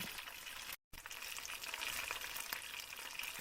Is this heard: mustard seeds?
yes